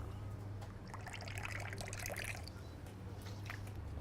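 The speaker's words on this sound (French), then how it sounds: "Je vais donc commencer mon cocktail par 15 ml de citron jaune." Lemon juice, a 15 ml measure, trickles out for a sidecar-style cocktail at a bartending competition, a soft continuous pour over a steady low background hum.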